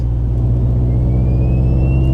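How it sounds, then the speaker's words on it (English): A steady engine hum with a rising high-pitched whine, like a supercharger spooling up as an 800 hp Subaru STI accelerates, close and loud. "It kind of sounds like a Whipple supercharger."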